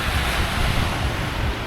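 Steady surf and gusty wind at Eagle Beach in Aruba roar loud and close, with constant wind buffeting the microphone and no voices.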